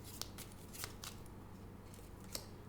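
Tarot cards are shuffled and drawn in a quiet room. Soft riffling and brief crisp card snaps come in a few light bursts over low background hum, close and faint.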